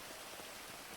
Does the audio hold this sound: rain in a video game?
yes